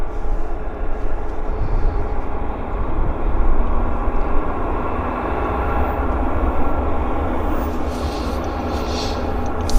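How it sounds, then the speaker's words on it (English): A WestJet airliner taxis out from the de-ice pad at Vancouver airport in winter, its engines giving a steady, loud broadband roar and whine that holds throughout with a slight swell midway, heard alone without talk. "WestJet's pulling out of the de-ice."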